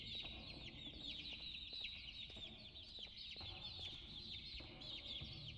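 Birds chirp and cheep in the video game Garten of Banban, a dense, continuous chatter of high, fast calls filling the background at a steady, faint level, with no talking.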